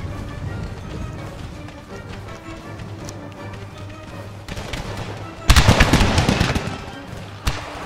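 Musket volleys in Empire Total War during an American Civil War battle, a low steady rumble of distant firing that swells into a loud crackling burst of massed shots before fading, with a final single crack.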